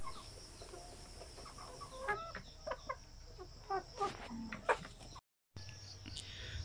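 Chickens kept on a farm cluck in a series of short, separate calls over steady low background noise, with a brief gap of silence near the end.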